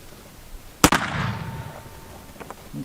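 A single sharp rifle shot during offhand target shooting practice, followed by a brief echoing decay and faint clicks afterward, outdoors with a backyard squirrel-shaped target at roughly 25–30 yards.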